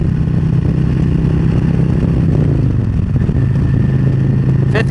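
A motorcycle cruising at 70 on a highway in fifth gear behind a 6-inch Freedom Shield windshield, with a loud, steady engine drone and heavy wind rush all the way through.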